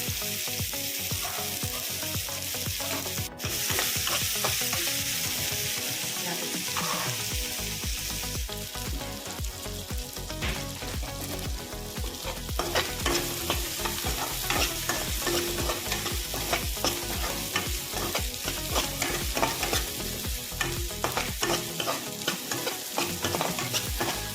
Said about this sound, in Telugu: మిరపకాయలు పచ్చిమిరపకాయలు బాగా వేయించుకోవాలి